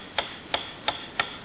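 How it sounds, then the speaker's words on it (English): Steady metronome ticking in a conditioning experiment with a dog, four sharp, evenly spaced clicks about a third of a second apart, close and clear against a quiet background. "A ticking metronome."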